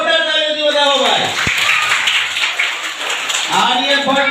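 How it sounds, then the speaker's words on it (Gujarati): Brief applause breaks out for a team at a kids' quiz contest, a couple of seconds of clapping between stretches of a speaking voice. "જોરદાર તાળીઓથી વધાવો ભાઈ."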